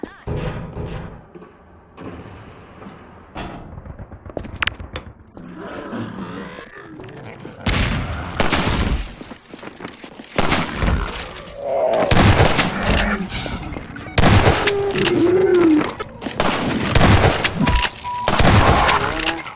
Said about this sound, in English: Let me shoot out the latch. I might be a little rusty with this rifle.